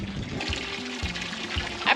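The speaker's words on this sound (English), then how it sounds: "I'm just going to fill the water up" Water runs steadily into a van's tank from a hose or tap, a continuous splashing flow near at hand outdoors by a paddock, with low tonal hums and a brief brighter gurgle near the end.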